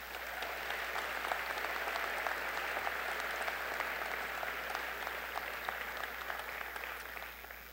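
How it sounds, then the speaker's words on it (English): Applause fills the hall at a Montana Tech graduation ceremony, a steady, even round of many hands clapping from a large seated audience, moderately distant, with no talk over it. "Let's give him one more round of applause."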